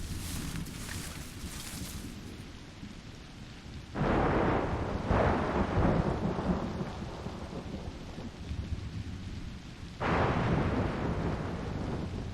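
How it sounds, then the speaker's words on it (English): A video game thunderstorm plays out with steady heavy rain and two loud, rolling thunder crashes, each one booming in suddenly and then slowly fading. "This storm's getting worse."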